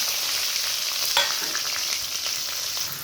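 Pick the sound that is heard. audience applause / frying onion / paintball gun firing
frying onion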